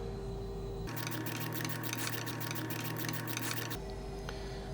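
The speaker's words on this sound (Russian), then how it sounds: "Все, болты крепления редуктора затянуты." Gearbox mounting bolts on a Tohatsu 5 outboard motor are tightened with a ratchet, a close, rapid clicking burst of about three seconds set against a quiet workshop background.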